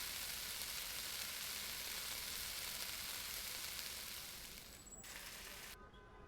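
A steady, faint sizzle of steak frying in a pan in the game Cooking Simulator, continuous and hissing, easing off toward the end.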